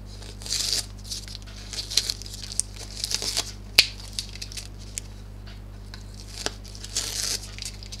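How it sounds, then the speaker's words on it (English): Tape is peeled off a machine-embroidery hoop holding a finished design, making short, close crackling and tearing bursts scattered across several seconds, with quiet gaps between them. "So remove all the tape."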